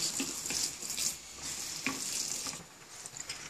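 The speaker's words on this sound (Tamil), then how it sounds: "எண்ணெய் காஞ்சிடுச்சு. இந்த கலர் அப்பளத்தை பொரிச்சிக்கலாம்." Coloured appalam (papad) frying in hot oil, a steady close sizzle with bursts of crackling that swell and ease throughout, no talking.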